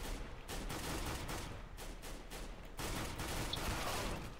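Rapid bursts of gunfire in Counter-Strike: Global Offensive, a dense, steady rattle of shots running nearly continuously at close range, loud and without talk.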